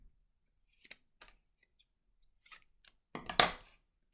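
Scissors snip paper into pieces in a few short, separate cuts, quiet and close, ending with a louder crisp rustle as the paper is crumpled.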